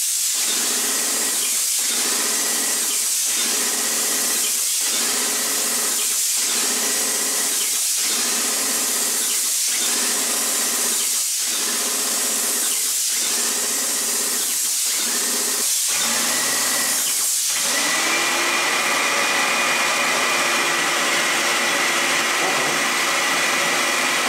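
Wagner Control Pro 250 M paint spray system running with a loud, steady broadband hiss, pulsing in regular surges about every 1.5 seconds, then settling into a continuous whine with a faint tone after the pulsing stops.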